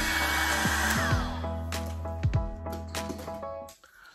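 A blow dryer runs on thick type 4 natural hair with a steady whirring hum. Shuffling, brushing and clicking handling noises break over it, and the airflow fades and cuts off near the end.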